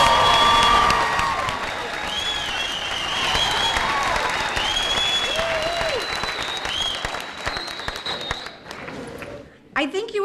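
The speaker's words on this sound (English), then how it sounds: "could you just cheer real loud if you feel the same way I do?" A crowd at the opening of a new student centre cheers and applauds loudly and steadily, with whoops and shouts riding on top. The noise fades toward the end.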